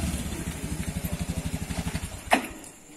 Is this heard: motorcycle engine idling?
yes